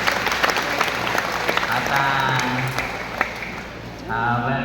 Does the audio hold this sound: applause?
yes